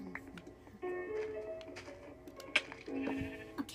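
Sheep bleat repeatedly in a survival video game, with several short, nasal bleats overlapping at moderate volume against faint background game sound.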